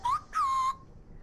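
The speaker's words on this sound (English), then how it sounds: "She's using the slide whistle." In a video game, a slide whistle plays two short tones: a brief rising note, a short gap, then a longer note that slides gently downward, clear and close with no speech.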